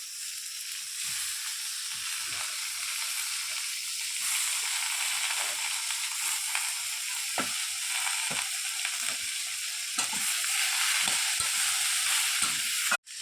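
Malabar spinach, potato and eggplant hit hot fried onions in a pan, giving a steady, close sizzle with faint stirring scrapes throughout and no talking.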